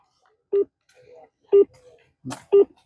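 A mobile phone dials out to the chief minister during a politician's visit to farmers' fields. Three short, loud beeps sound about a second apart against near silence, with faint voices in between.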